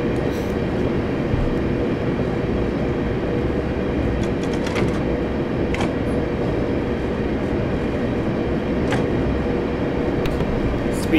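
A train runs steadily in the Train Simulator 2018 video game, a loud continuous rumble with clicks of the wheels on the track.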